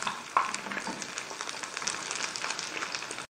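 Sesame chicken pieces fry in a pan over a medium-low flame, giving a steady close sizzle and crackle with brief louder spatters throughout, and no voices over it.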